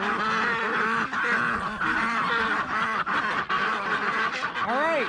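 A flock of noisy farm ducks quacks loudly and continuously, many calls overlapping in a dense, close chorus.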